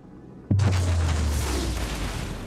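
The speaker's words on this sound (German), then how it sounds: "Und der EMP-Generator, den will ich euch mal kurz zeigen. Die Explosion." In the Star Citizen video game, an EMP generator detonates after a brief quiet start, a sudden heavy boom with a deep low rumble that rolls on and slowly decays, loud and alone.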